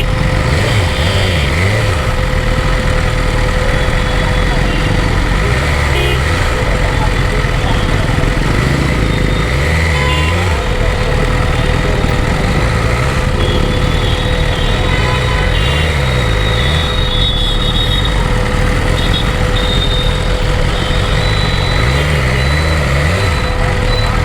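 Loud, continuous road noise from a motorcycle riding through heavy highway traffic in Varanasi, with engines droning and rumbling throughout and no clear breaks in the din.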